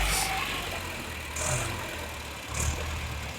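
A YuMZ tractor engine idles steadily just after being started, a low continuous rumble heard close up with two brief surges in revs and no talk.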